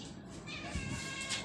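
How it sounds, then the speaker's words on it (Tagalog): Hungry pet cats meow in a home, a few drawn-out, fairly close cries that overlap with background noise. "Gugutom na yung mga alaga kong pusa"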